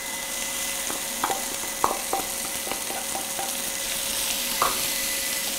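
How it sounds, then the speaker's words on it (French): Apples and corn sauté in a pan with a continuous bright sizzle, punctuated by a few sharp utensil taps and scrapes, close and with no voices. "On va les faire sauter pendant 2 minutes"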